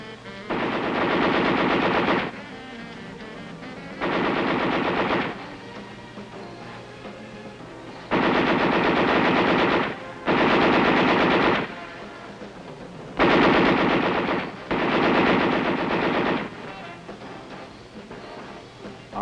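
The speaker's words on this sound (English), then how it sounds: "There's one more weapon I want to tell you about, Dad, the 50 caliber machine gun." A .50 caliber machine gun on an infantry range fires six long sustained bursts, loud and close, each lasting about one to two seconds, separated by short pauses.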